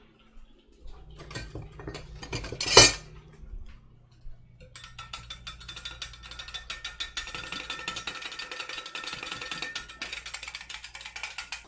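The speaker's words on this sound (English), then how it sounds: "I'm gonna grab a whisk and whisk this all together." A whisk scrapes rapidly and steadily against a bowl, mixing a maple mustard sauce for chicken, with a dense rattling texture that follows a few earlier knocks and a short sharp clatter.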